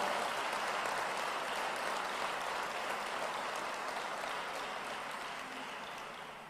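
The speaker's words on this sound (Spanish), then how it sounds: "Le damos un aplauso a su palabra" Sustained applause from a church congregation after a sermon, a dense, steady wash of many hands clapping that fills the space and slowly tapers off toward the end, with no voices standing out.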